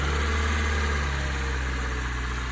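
A car engine fitted with a MAP and MAF sensor system idles on its own, a loud, steady, even hum that holds constant throughout with no talking.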